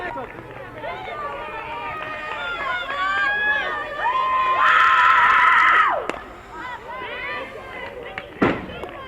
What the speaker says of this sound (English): Chazy cheering squad is here.